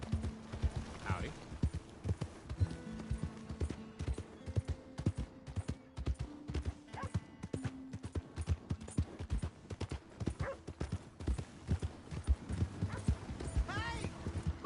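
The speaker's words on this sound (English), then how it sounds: "Hey! My horse!" A horse's hooves clop in an irregular, steady rhythm for about fifteen seconds, with a whinny near the end and voices talking over the hoofbeats at times.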